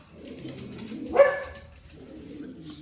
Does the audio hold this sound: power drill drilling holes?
no